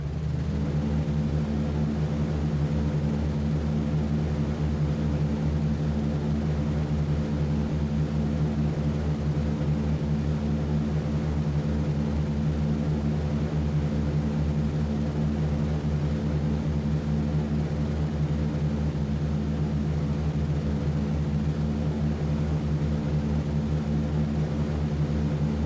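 Steady, droning roar of B-17 bomber propeller engines climbing after takeoff in the flight game B-17 The Mighty 8th, a constant loud hum with no talking.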